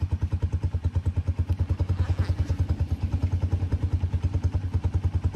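A delivery rider's motorcycle idles close by, its engine thumping in a fast, even pulse that runs steadily throughout, with faint clatter and no speech over it.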